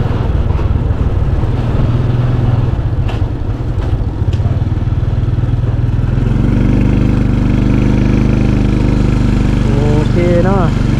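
Motorbike engine droning steadily while riding into Vang Vieng town in Laos, loud and close throughout with wind buffeting, and a voice speaking over it.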